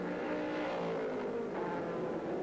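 A Panoz race car engine drones steadily at Sears Point during a 2001 American Le Mans Series race, a loud sustained roar with a slowly shifting pitch as it holds speed.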